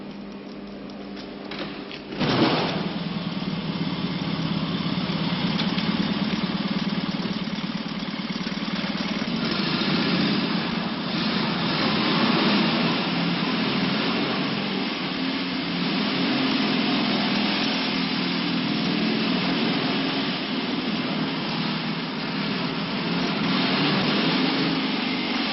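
An old car of about 35 to 37 years, still running well and never restored, sits with its engine going after a short start, a steady, dull, muffled drone holding unchanged for over twenty seconds.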